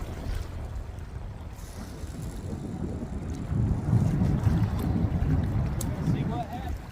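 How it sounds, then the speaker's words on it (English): Strong wind buffets the microphone on a river during a catfishing outing, a steady low rumble that swells louder in the second half, with no speech heard. "It's awful windy today."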